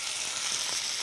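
Chicken bulgogi in a wet marinade sizzles and splatters steadily in a hot pan, a loud continuous hiss with faint crackles throughout.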